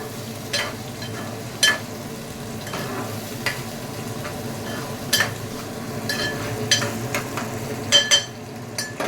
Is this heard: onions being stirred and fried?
yes